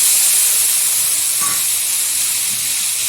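Ginger, onion and garlic paste with turmeric sizzling in hot oil alongside fried potatoes for chicken bhuna, a steady loud hiss throughout with no talking.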